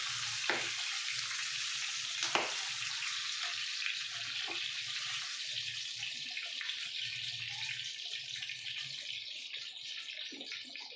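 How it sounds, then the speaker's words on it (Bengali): Pabda fish frying in hot oil in a pan, a continuous soft hissing sizzle with faint crackles and a few sharp spits, fairly quiet and steady throughout. "এরকম করে আমি আর বাদ বাকি মাছগুলোকেও ভেজে নিচ্ছি"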